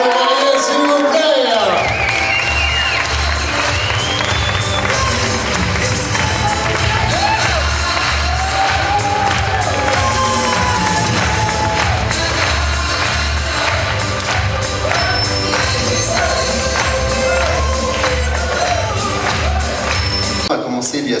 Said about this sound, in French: Et applaudissements pour le marié, s'il vous plaît.